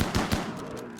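Gunfire in the video game RimWorld, aimed at a Meefalo, comes as two or three quick close shots that fade into a brief tail, with no speech.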